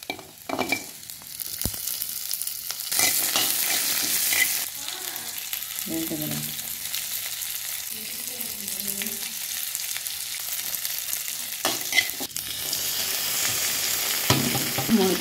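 Fifteen garlic cloves and small onions sauté in a pan for poondu kuzhambu, giving a loud, close sizzle broken by scraping stirs and clattering spoon strokes, with brief low murmurs between them.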